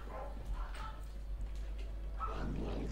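Dogs bark and yip in short bursts in the background, faint and somewhat distant behind a low steady hum, with a voice talking in between.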